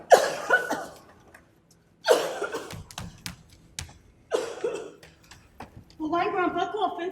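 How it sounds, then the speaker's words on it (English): An elderly man coughs in three loud, harsh bursts with pauses between them, close by, followed by a stretch of voiced, raspy sound at the end. "But why Grandpa coughing so?"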